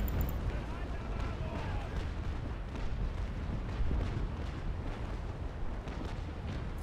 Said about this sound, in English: I'm firing my heavy guns.